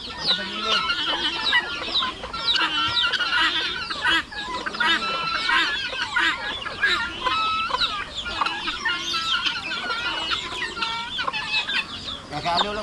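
Chickens cluck and call continuously close by in a farmyard shared with turkeys, ducks and guinea fowl, a dense overlapping chorus of clucks with a few louder squawks.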